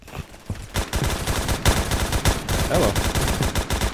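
Rapid automatic gunfire from the Roblox shooter game Phantom Forces rattles in dense bursts, loud and close, with a few sharper single shots, while a player briefly speaks over it.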